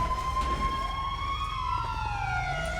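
A police car siren wails with rising and falling tones, fairly loud and steady throughout, over low background rumble.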